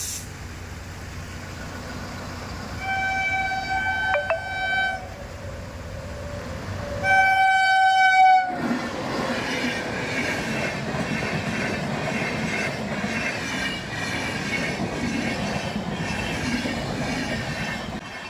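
A train rolls along a railway line near Daund, starting with a drawn-out squeal of wheels and then a steady, loud rumble and clatter of passing wagons that holds for well over ten seconds, with no talk.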